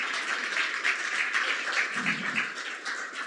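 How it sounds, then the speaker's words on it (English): After an evening talk on DUNE cavern excavation and blasting, the audience gives presenters a steady round of applause, a continuous dense clapping wash at even loudness for the whole stretch. "if we could just give a round of applause for our presenters for this evening"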